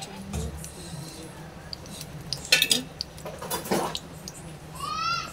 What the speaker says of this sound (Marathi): कढाई ठेवली आहे गॅसवरती। आता यात 2 चम्मच मी तेल टाकते।